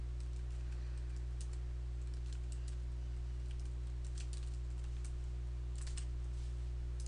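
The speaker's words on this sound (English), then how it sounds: "Now, a user or hacker types some invalid inputs." Typing on a computer keyboard in short irregular bursts of light key clicks over a steady low electrical hum, close and quiet, with no talk.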